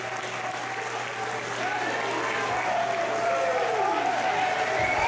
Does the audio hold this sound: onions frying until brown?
no